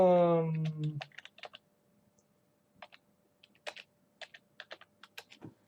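Someone types a password on a computer keyboard in scattered, quick bursts of close, light key clicks after a short spoken phrase, with quiet gaps between the groups of keystrokes.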